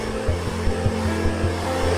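An Iteracare handheld hot-air blower runs with a steady whirring motor hum and airy rush, a soft rhythmic ticking pulsing through it, close and fairly quiet with no talk.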